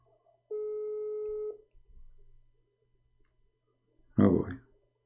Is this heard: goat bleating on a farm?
no